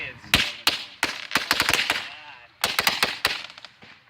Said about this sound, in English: Firecrackers. I'm scared.